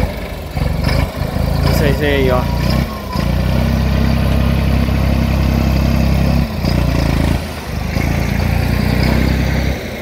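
Valtra A74S tractor diesel engine running loud and steady nearby while packing corn silage on a farm, with someone talking over it throughout.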